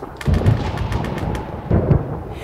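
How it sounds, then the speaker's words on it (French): Deep rumbles of thunder roll in two heavy bursts over a constant hiss of wind and rain. "Mais un jour, il y a eu la tempête."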